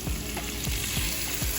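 Steady, close sizzling of chicken and colorful vegetables frying in a hot pan, a continuous crackling hiss with faint low clinks of stirring.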